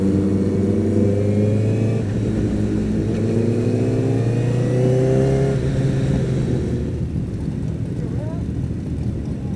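Kawasaki motorcycle engine running loud and close on a group ride, pitch climbing and dropping through steady revs for the whole stretch, with rising harmonic sweeps and a brief lull near the end.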